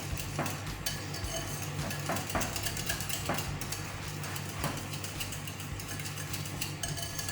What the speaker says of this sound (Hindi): तो इन सब चीज़ों को हम अब इस दही में अच्छे से मिक्स कर देंगे।